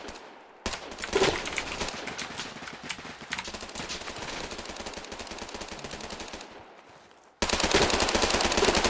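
Rapid gunfire in the Roblox video game: dense, continuous bursts of shots across most of the stretch, briefly dropping away before another loud burst at the end.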